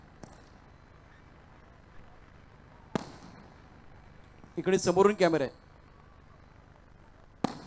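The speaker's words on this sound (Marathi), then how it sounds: "ही फटाक्यांची आतषबाजी आपण आपल्या स्क्रीनवरती पाहू शकता" Fireworks at the opening ceremony of the Chiplun Nagri Premier League 2024 tennis-ball cricket tournament go off as a few sharp, isolated bangs spaced seconds apart, with someone speaking briefly between them.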